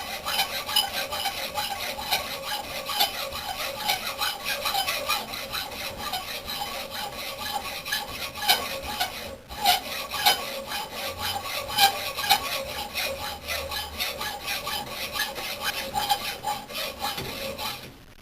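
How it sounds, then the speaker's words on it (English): A fine 32-teeth-per-inch hand saw cuts a small piece in continuous rasping strokes, close and fairly loud, with a brief pause midway. "what I'm noticing with this 32 teeth per inch, it's taking quite a while to cut through this"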